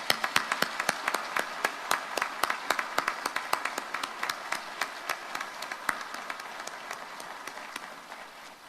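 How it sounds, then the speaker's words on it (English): An audience applauds Army officer candidates at an Officer Candidate School graduation ceremony, sustained crowd applause with distinct sharp claps standing out in a steady rhythm, moderately distant and slowly fading. "Please join me in a round of applause for your officer candidates."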